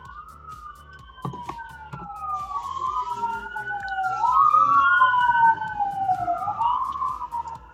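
Several emergency vehicle sirens wail and overlap as they pass near a pottery studio, rising and falling in pitch and growing louder before easing off, heard alone without talk.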